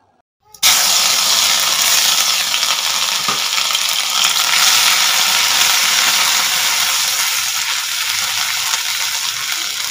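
Crushed garlic and green chillies drop into hot mustard oil in a kadai and burst at once into a loud, close, continuous sizzle that holds steady to the end, with no talking.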